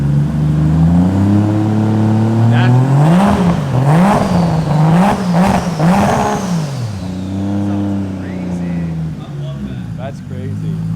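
A Toyota Chaser with a 2JZ engine revs through an LZ muffler, a loud, close engine note that climbs and falls in several quick blips before easing back to a steady idle drone.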